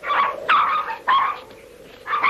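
Young husky puppies, sled-dog pups on Antarctic pack ice, give four short, high yapping barks in quick succession, close and fairly loud.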